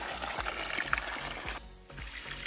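Water runs steadily from the pipe of a drum pump hydro system on a farm, a continuous trickling and splashing flow with faint rhythmic low thumps, heard alone at moderate level.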